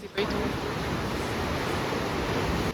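Sea waves along the Marseille corniche, a continuous broad wash of surf heard from the shore with some wind against the microphone.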